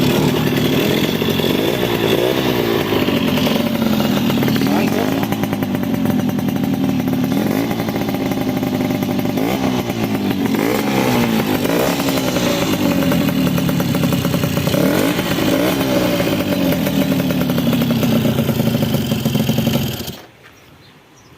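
A Suzuki Crystal motorcycle engine idles and is revved with no air filter, a loud, steady rasping drone with repeated rising throttle blips, up close, ending abruptly near the end.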